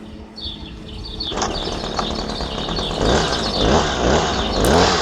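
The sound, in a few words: STIHL HS 46C hedge trimmer engine starting and running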